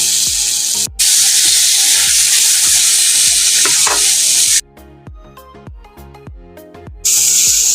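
Potatoes and onions sizzle loudly in hot oil in a pan for a Bengali bacha fish dish, with soft stirring knocks. The steady frying hiss cuts out briefly, thins to a quieter crackle for a couple of seconds, then surges back.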